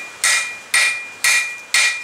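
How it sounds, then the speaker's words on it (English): A large hammer strikes hot steel while forging bolt jaw tongs, four loud, evenly spaced metallic blows about half a second apart, each ringing briefly before the next. "You don't have to use bigger hammer as I have for doing this."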